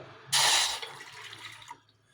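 Water is poured into a cooking pot to make sugar syrup for mango jamun: one steady, close splashing pour lasting just over a second, then it stops and the room goes quiet.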